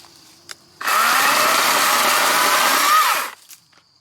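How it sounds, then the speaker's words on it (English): A 16-inch Wild Badger 40v battery chainsaw revs up from idle to a loud, steady high-pitched whine for about two and a half seconds, then winds down, with a few brief knocks before and after. "I like the fact that it ramps up speed, similar to a gas chainsaw."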